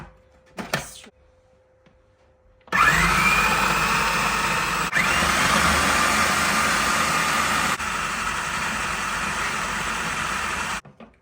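An electric hand mixer whirs steadily as it mixes cream cheese batter with lemon juice for a low-carb cheesecake, starting abruptly after a brief quiet and running loud and continuous with slight changes in pitch.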